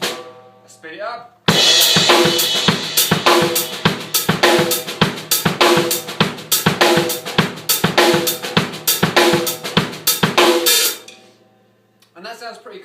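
Linear drum groove on kick, snare and hi-hat played at a faster tempo, a dense, even stream of close, loud strokes for about nine seconds before fading, with brief sounds at either end.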